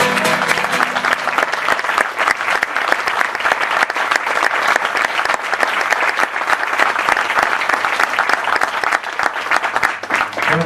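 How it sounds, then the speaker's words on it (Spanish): Sustained applause from a large crowd, loud and steady throughout with dense clapping and no pauses. "pido un aplauso a este maestro de los maestros"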